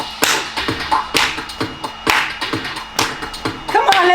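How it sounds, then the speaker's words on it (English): Hands clap in a regular beat during a festive virtual fitness session, sharp close claps spaced roughly every half second over background music, with a few voices chiming in. "Clap your hands."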